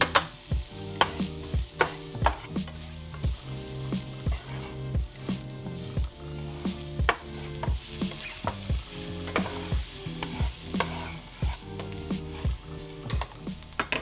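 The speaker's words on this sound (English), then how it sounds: "I went ahead and added some red onion and garlic, and I let it cook until the onion was more translucent" Red onion and garlic frying in avocado oil, a soft, steady sizzle with repeated stirring scrapes that come in a regular rhythm over a tonal, musical-sounding background for the whole stretch.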